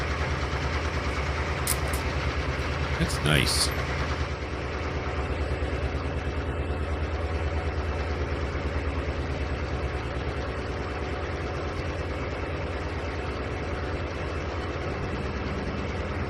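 Locomotive diesel engines in the Trainz 2019 railway simulator hum steadily with a deep idling throb and a faint mechanical whine, holding an even level throughout; a brief remark is spoken early on.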